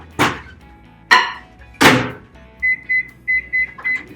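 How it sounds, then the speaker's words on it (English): A microwave oven heating apple makes three heavy thuds from the door or buttons, then a run of five evenly spaced electronic beeps, close and clear. "I'm just going to pop this in the microwave for like 45 seconds"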